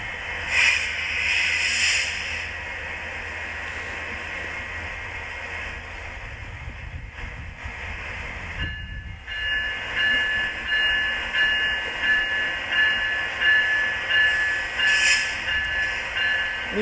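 A Metrolink double-decker commuter train pulls out of Fullerton station in California, with a steady rumble and hiss, a high tone running through it and rhythmic clatter building as it moves off, no talking.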